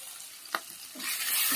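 Ginger and cumin paste frying with tomato and onion in a pan over low heat, a steady soft sizzle with a sharp stirring clink partway through, the frying hiss swelling louder toward the end.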